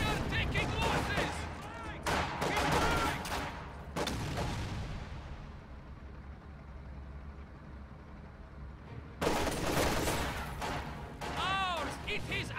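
Bursts of gunfire and explosive battle noise from a war strategy game fill the first seconds, then drop to a quieter lull and return loud near the end, with commentator voices talking over the action.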